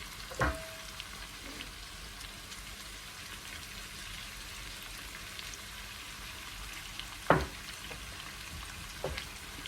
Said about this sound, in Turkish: Baharatlarıyla birlikte kavrulsun.